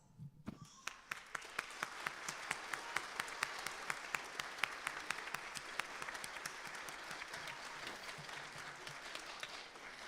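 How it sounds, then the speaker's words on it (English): Sustained applause from an audience at a school band concert, beginning after a brief pause and then holding as a thick, even wash of many clapping hands throughout. "please stand up so we can give you a round of applause"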